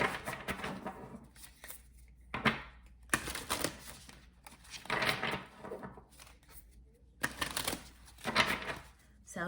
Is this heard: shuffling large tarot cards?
yes